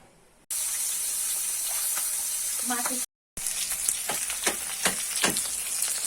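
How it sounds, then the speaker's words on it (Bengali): Rohu fish pieces fry in hot oil with a loud, steady crackling sizzle that runs almost unbroken, briefly cutting out twice, with sharper spatters and stirring clatter toward the end. "মাছগুলো ভাজা হয়ে গেছে লাল লাল করে একদম"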